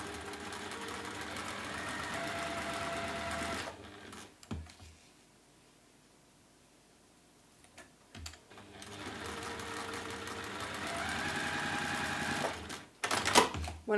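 A sewing machine chain pieces a snowman quilt block, its fast rapid stitching whirring in two long bursts separated by a quiet pause, with brief clicks and handling noises at the breaks.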